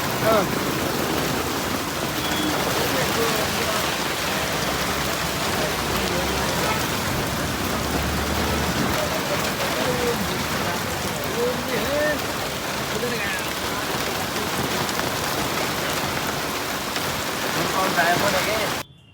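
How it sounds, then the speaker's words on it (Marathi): Heavy rain pours down in a dense, unbroken roar, drumming on surfaces for the whole stretch, with faint voices buried underneath. "पाऊस काय कमी होईना. भयंकर पाऊस आहे."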